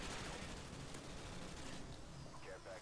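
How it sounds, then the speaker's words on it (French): An AK74U with a 45-round extended magazine firing rapidly in a video game, a continuous fast burst heard faintly and somewhat muffled. "Et elle tire très très vite."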